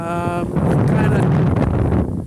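Strong wind blowing outdoors, a loud continuous roar battering the microphone and almost drowning a man's brief speech at the start.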